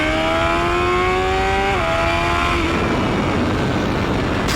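A BMW S1000XR inline-four motorcycle engine pulls hard under acceleration, its loud rising whine stepping up through a gear change before dissolving into heavy wind rush, heard close from the rider's position with no talk.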